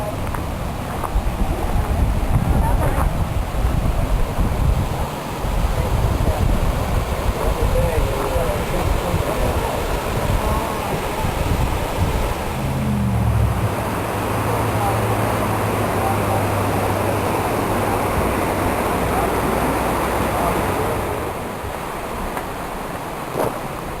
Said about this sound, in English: This is unusual year though, that the water's flowing this much.